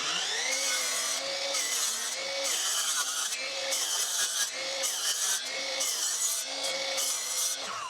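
A $200 Power Wheels budget miter saw cutting through wood, a loud, close, continuous grinding whine that swells and dips in a steady repeating rhythm as the blade bites.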